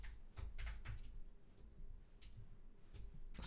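Quiet, close keyboard typing comes in irregular clusters of clicks, a sparse run of keystrokes on a computer keyboard with short pauses between bursts.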